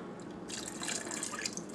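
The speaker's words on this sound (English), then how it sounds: "Then I'm going to add almond fragrance oil." Almond fragrance oil trickles into a thick handmade soap mixture, a soft wet pouring and dripping that grows brighter halfway through and runs alone for under two seconds.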